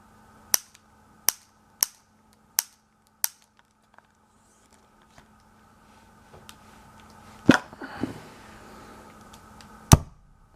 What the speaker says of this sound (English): for this test I added a little more gas for more power. Here we go, on the right, firing in 3, 2,